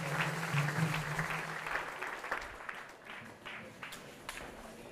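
A church congregation applauds together in a sustained round of clapping that slowly thins out, moderately loud, with a faint voice underneath at the start.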